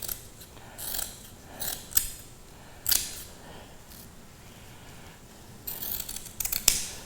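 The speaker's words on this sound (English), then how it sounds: "I can now just take my scissors and cut where the razor didn't get." Several crisp snips of scissors cutting through stiff fiberglass cloth inside a Whitehall boat hull, spaced irregularly with quiet pauses between cuts, close by.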